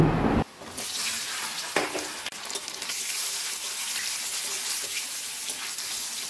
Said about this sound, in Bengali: তেল গরম হয়ে গেছে, এবার দিয়ে দেব সেদ্ধ করে রাখা ওলগুলো